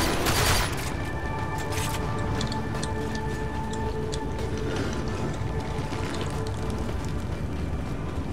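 Sustained gunfire from a Latron rifle in the video game Warframe, with a dense burst near the start followed by continuous clattering shots and ticking effects layered over steady game background noise.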